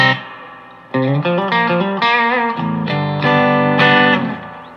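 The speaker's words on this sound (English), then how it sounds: "here is just the amp, and you can hear the reverb built into it" An electric guitar plays sustained notes and chords through a Supro Black Magick amplifier with built-in reverb, bright and slightly driven, each note ringing out with a lingering reverb tail.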